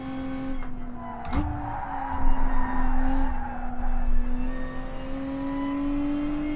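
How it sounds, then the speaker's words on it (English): Tires squeal steadily from a Lotus drifting in Gran Turismo Sport on the Nordschleife, a sustained skidding whine laid over a droning engine note, fairly loud and unbroken, with no voices. "the back end just slides out so easily"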